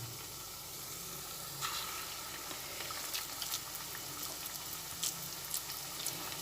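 Rice and winter vegetable pakoras frying gently in oil over a lowered gas flame, a soft continuous sizzle with occasional light crackles and stirring ticks, fairly quiet and close.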